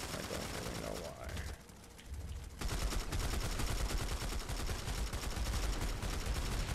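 Rapid automatic rifle fire from a Planetside 2 firefight on PS4, mixing short bursts and sustained full-auto strings, dense and loud through most of the stretch after a brief quieter gap near the start.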